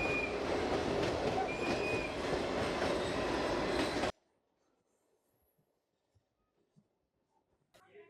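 A train rolls through a tunnel on the way to Araku, a loud enclosed rumble with wheel squeal and clatter that stops abruptly after about four seconds, leaving near silence with a few faint ticks.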